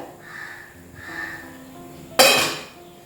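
Metal lid lifted off a pot of lentil dumplings simmering on the stove, a single sharp clanking scrape rising out of a quiet kitchen background and fading over about a second.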